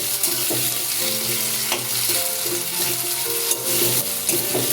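Diced potatoes fry in hot oil in a pan for a Bengali prawn dish, giving a steady, close sizzle with occasional stirring scrapes and faint clinks throughout.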